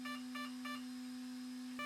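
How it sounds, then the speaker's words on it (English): Electronic speed controller in a Hangar 9 Hellcat RC plane emitting a programming tone sequence: three short evenly spaced beeps, then a steady faint tone, then another beep starting at the end. "Quickly move the throttle down when the magic tones are heard."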